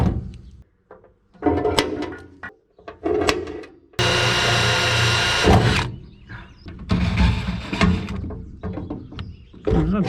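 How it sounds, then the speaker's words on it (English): A power drill bores through metal while fitting an air-ride gauge on a 1951 Chevrolet Fleetline custom, loud, close bursts of whirring broken by pauses, with a long sustained run in the middle and shorter pulses on either side. "Oh, did I break the drill bit?"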